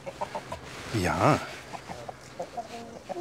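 Chickens clucking as they are herded into a coop, short bursts of clucks near the microphone amid other faint hen calls, with a person speaking briefly.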